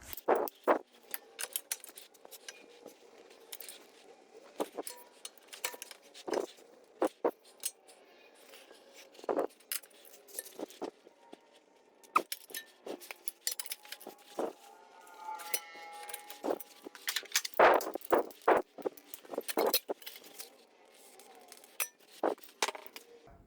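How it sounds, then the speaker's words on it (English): A torque wrench tightens the top strut nuts on a 2010–2013 Porsche Panamera front air strut, giving sharp, scattered metallic clicks and clinks in short bursts with quiet gaps between them. "I'm going to go ahead and torque these down now."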